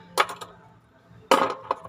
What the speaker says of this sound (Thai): ผมจะตีให้ดูนะ หยิบมาเงี้ยตอกเข้าไปเลยเนี่ย